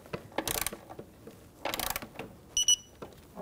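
Ratchet clicking as a socket snugs the throttle body bolts on a 1997-2006 Jeep Wrangler 2.4L four-cylinder, two short bursts of rapid clicks, close and fairly quiet, with a brief tonal chirp near the end.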